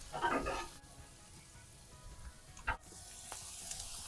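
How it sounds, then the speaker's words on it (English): Ground beef for a stir-fry ramen frying in a pan, a faint steady sizzle with a couple of brief utensil knocks and scrapes, no talking. "Our ground beef is almost done."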